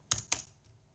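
Two quick keystrokes on a computer keyboard click close and crisp, followed by a faint trailing tap and quiet room noise.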